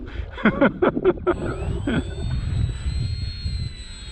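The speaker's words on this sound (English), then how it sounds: "See if we can taxi this way without it flipping over." Small electric RC model airplane motor running near the ground as the plane taxis on a breezy field, a steady whine rising and falling in pitch, with wind rumble and a person talking over it early on.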